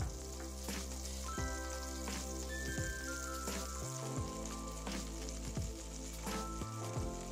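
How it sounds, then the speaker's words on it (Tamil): Butter sizzling and frying in a kadai pan, a steady hiss running under louder background music throughout. "அதுக்கப்புறம் ஒரு கடாயில் நான் வெண்ணெய் சேர்த்துக்கிறேன்."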